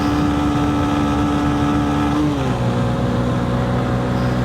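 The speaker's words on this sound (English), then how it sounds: "Keep on hitting the limiter in third." A Honda CB125F single-cylinder engine is held hard against its rev limiter in third gear, a loud continuous high-pitched drone that drops in pitch as the throttle backs off, with wind noise throughout.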